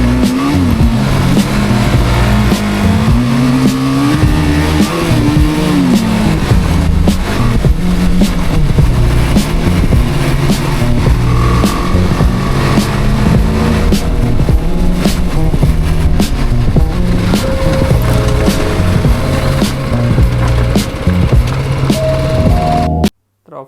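Motorcycle ridden fast while off-roading, its engine droning loud and close with rising and falling revs throughout, cutting off abruptly at the end.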